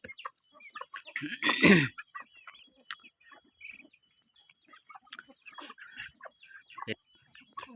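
Free-range village chickens in rural Thailand cluck sporadically nearby, with one louder squawking burst early on followed by scattered soft clucks in a quiet yard.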